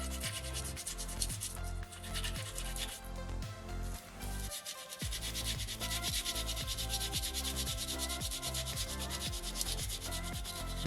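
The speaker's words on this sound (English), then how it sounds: "I'm primarily using my thumb pressure on the back. Might flip my sandpaper back and forth." Steady hand-sanding of a small soapstone shark carving with sandpaper, a continuous close rasping rub with thumb pressure and back-and-forth strokes, briefly pausing midway, with no talking.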